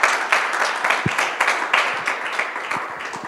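A small conference audience claps in a thin, uneven patter of distinct individual hand claps that continues for several seconds.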